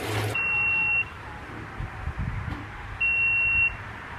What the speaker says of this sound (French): c'était l'alarme détecteur de fumée